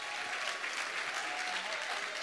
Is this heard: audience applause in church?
yes